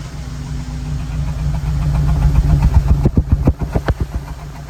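A Honda Element engine idles roughly with a cylinder 1 misfire, its steady low rumble breaking into loud, uneven knocking pulses and stumbles that grow stronger toward the end, with no voices.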